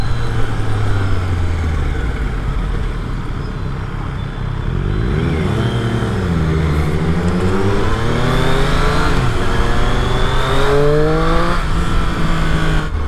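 A Triumph Street Triple RS with an inline-three engine idles, then revs up loudly in rising and falling sweeps, close and sustained with no talk over it.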